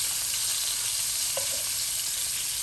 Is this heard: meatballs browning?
yes